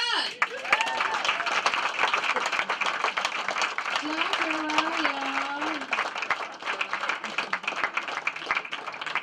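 Comedy club audience clapping steadily as a comedian is brought to the stage, continuous applause with a voice talking over it.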